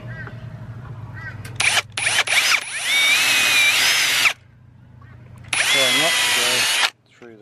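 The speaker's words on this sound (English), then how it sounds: "I'm just going to drill that" A power drill whines loudly in several short bursts, then one long steady run, pauses, and revs again, with a low hum underneath, drilling a plastic awning pole.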